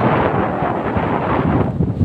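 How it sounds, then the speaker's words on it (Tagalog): Strong wind buffets the microphone in a steady, loud roar with low rumbling gusts throughout, no voices present. "Grabe, ang lakas ng hangin."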